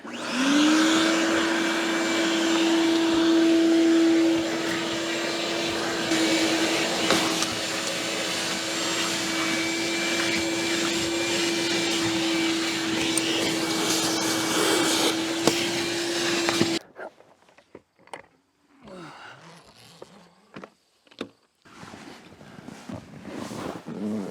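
Vacuum cleaner working inside a 1973 Cobalt boat with a Mercruiser 165hp engine, a loud steady whine for about seventeen seconds, then cutting off into scattered handling thumps and rustles.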